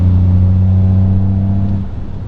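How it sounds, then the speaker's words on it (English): A Toyota GR Yaris exhaust drones under power at motorway speed on a rainy day, a steady low-pitched engine hum with strong harmonics that eases slightly toward the end, close and loud with no talking. "this is a good test with the exhaust on the motorway"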